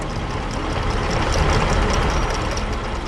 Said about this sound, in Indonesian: Traktor hijau dengan alat pemecah tanah bekerja dengan gigih.